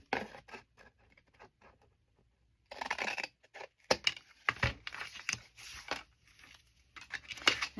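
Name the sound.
cutting a paper flap off a journal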